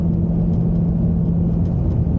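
A 2021 Mustang GT Performance Package, a 750 hp car, holds a steady loud engine drone with a deep rumble, close and constant without clear rev swings.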